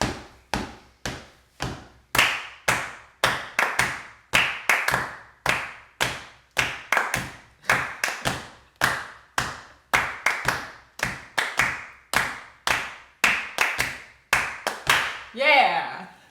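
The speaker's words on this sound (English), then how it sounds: "Clap along with us." A group claps along to a Lindy Hop rhythm in sharp, evenly spaced hand claps, a steady beat of close, crisp strikes with a short voice sound at the very end.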